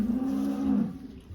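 A single cow in a dairy barn gives one sustained, close moo lasting just under a second, followed by quiet barn ambience.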